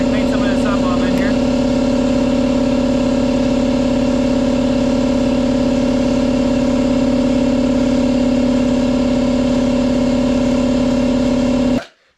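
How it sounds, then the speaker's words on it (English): A workshop pump runs loudly and continuously at close range, a steady droning hum that cuts off abruptly at the end. "Sorry about the pump, guys."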